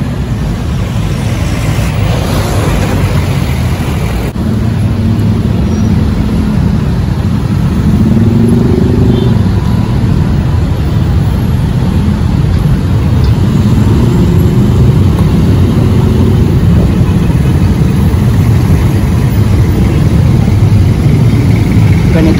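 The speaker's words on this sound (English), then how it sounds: "Ganito ka-traffic dito, guys, ha." Heavy evening traffic on Commonwealth Avenue in Quezon City near the South Luzon bridge exit makes a dense, continuous rumble of idling and slowly moving car and motorcycle engines, steady and fairly loud throughout.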